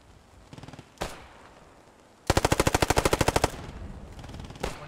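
Rapid burst of automatic gunfire in the Post Scriptum video game: a couple of sharp single shots, then a dense, loud volley of about a dozen evenly spaced rounds lasting a second or so, followed by another distant shot.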